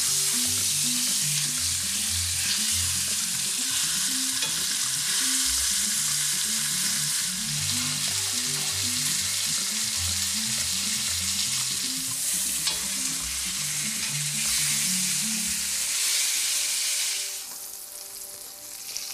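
Meat browning in a hot pan for a semi-traditional Italian comfort dish, a loud continuous close sizzle with a rhythmic low thumping beneath, easing near the end, no talk.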